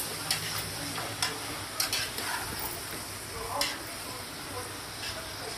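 Mutton curry with coriander being stirred in a pan, giving soft continuous scraping and light sizzling with a few sharper clicks of the spoon against the metal, steady and close.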